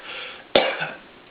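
A voice imitating a deep, persistent cough: two short harsh bursts, close and fairly loud, with a breathy rasp between them.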